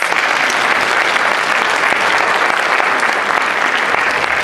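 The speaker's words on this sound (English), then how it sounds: "please, let's give a big round of applause for Mr." A seated audience at a social media presentation gives a loud, sustained round of applause for the incoming speaker, a thick, even roar of many hands clapping with no break.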